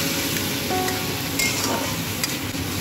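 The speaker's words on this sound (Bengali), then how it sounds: "এইভাবে মশলাটাকে ভাজা ভাজা করতে থাকবো যতক্ষণ না এর গা থেকে একটু একটু করে তেল বেরিয়ে আসবে" Tomato, onion, ginger and garlic paste frying and being stirred in a pan for a Bengali fish kalia, with steady close sizzling, a few light utensil clinks and scraping strokes throughout.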